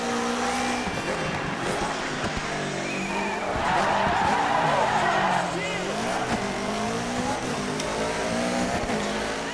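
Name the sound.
rally car drifting on gravel in DiRT 3 video game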